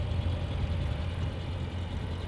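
A 2016 Dodge Challenger R/T Scat Pack's 6.4-liter 485-horsepower SRT V8 idles with a steady, deep rumble, even and continuous throughout.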